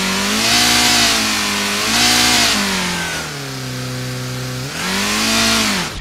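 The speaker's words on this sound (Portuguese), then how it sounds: "o carro começou a acelerar. Começou a ligar o motor." A synthesized video game car engine revs repeatedly, rising and falling in pitch through several throttle surges with a brief dip in the middle, loud and buzzy throughout.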